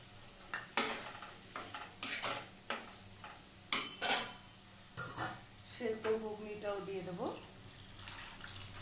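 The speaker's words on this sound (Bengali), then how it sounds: "এবার আলুগুলো দিয়ে দেবো" Potatoes stirred into fried spiced masala in a pan, a spoon scraping and clinking against the pan in repeated strokes, with a soft sizzle and faint water sounds underneath.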